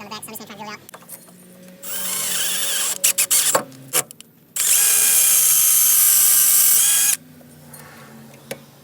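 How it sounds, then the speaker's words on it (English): A right angle drill bores out an alternator bolt hole in a Z31 engine bay: a short whirring burst, a few sharp clicks and taps, then a longer, louder sustained drilling run before cutting off. "I can get that right angle drill in there"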